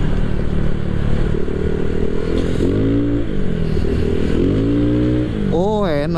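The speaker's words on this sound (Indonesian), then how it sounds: "Mudah-mudahan bisa kedengeran knalpotnya ya." Honda PCX 160 scooter with a bored-up engine and exhaust, heard while riding as a steady close drone that rises and falls slightly, with someone talking over it throughout.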